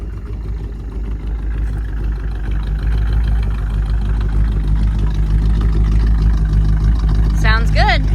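A 1954 Cadillac engine running at a steady idle, a loud, close, continuous low rumble that holds even throughout, with a brief higher squeal near the end.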